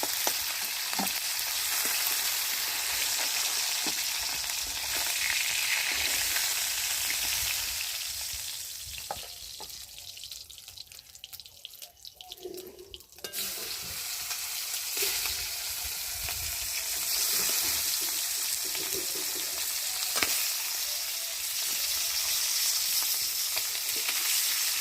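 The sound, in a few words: heads frying in a pan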